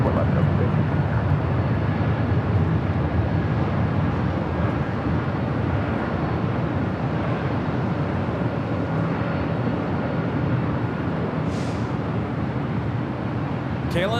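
KLM Boeing 787-10 Dreamliner taking off from LAX runway 24 left, a continuous broad jet roar heard from a distance and holding steady throughout, with a person talking over it.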